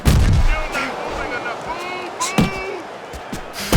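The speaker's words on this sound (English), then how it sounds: "What an uppercut by Lewis." A heavy uppercut thuds home in the Fight Night Champion boxing game, one of several sharp punch impacts in a fight against Ivan Drago. A commentator talks over steady crowd noise throughout.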